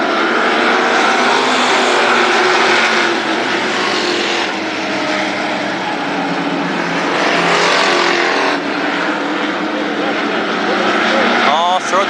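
Sportsman class race cars roar around Berlin Raceway, a loud continuous engine drone that swells as the pack passes close, with a commentator talking over it.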